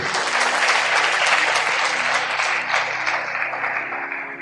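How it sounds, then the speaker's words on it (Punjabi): A congregation at a Christian sermon claps loudly and continuously, a dense, close roar of many hands that holds steady and then eases slightly toward the end, with no talking. "ਤਾਲੀ ਮਾਰੀਏ ਜ਼ੋਰ ਦੇ ਨਾਲ"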